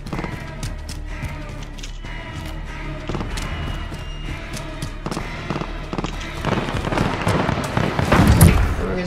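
Gunfire and explosions in a Modern Warfare gun game match: a busy stream of close shots and impacts, building toward heavier blasts near the end.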